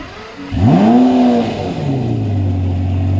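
A Lamborghini Murcielago engine roars up in a sharp rev, then settles into a deep steady idle, loud and close.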